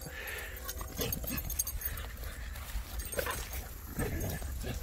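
A Vizsla dog outdoors, giving faint whimpers and short yips over a noisy background with scattered bumps and movement.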